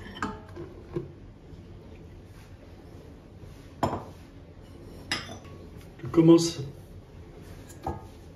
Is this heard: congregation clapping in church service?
no